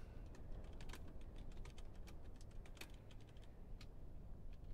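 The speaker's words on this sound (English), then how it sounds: "Oh, typing." Rapid, irregular keystrokes on a computer keyboard with sharp clicks scattered across the clip over a steady low hum, fairly close and without any voice.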